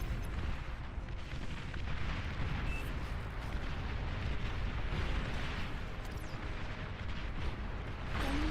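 A sustained, dense roar of explosion and artillery-like blasts from the Beyond All Reason strategy game as an enemy commander is destroyed, loud and continuous throughout with no voices over it.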